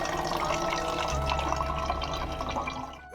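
An open kitchen tap pours water into a container as a steady, close rushing flow that thins slightly toward the end. No voices are heard.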